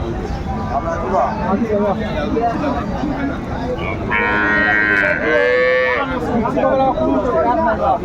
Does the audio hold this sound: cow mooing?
yes